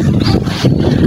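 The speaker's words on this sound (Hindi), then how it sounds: "बहुत ही तेज हवा चल रही है," Strong wind gusting loudly at an outdoor shrine and graveyard in Sialkot, a continuous broad roar with surging peaks that fills the whole clip, no talk.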